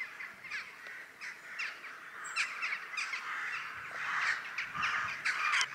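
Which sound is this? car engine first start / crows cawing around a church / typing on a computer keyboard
crows cawing around a church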